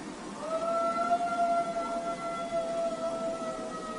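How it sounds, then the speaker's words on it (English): Dog howling at night, a thin wavering drawn-out howl rising and holding, fairly faint and distant against a noisy background. "so I'm wondering if this was just a really old dog trying to howl"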